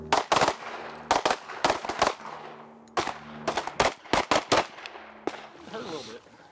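Gunfire at a firearms training range during teacher training, with several shooters firing sharp, loud shots in irregular clusters and quick doubles. Brief pauses separate the groups of shots.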